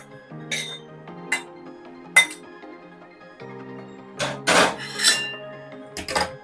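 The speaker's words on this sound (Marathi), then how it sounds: "तयार उकड इथे मी ताटामध्ये काढून घेते" Cooked rice-flour dough for mango modak is turned out onto a plate, giving a few scattered clinks and scrapes of a utensil against metal and glassware at close range in a quiet kitchen.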